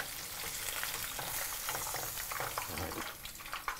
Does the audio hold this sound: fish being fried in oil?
yes